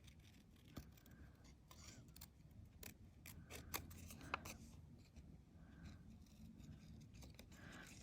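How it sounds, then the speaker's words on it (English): Scissors trimming a red paper piece for a collage made of tissue and magazine pages: quiet, close snips and paper rustles arrive in a few irregular clicks, with faint room noise and no talking. "I'm going to trim the red piece off"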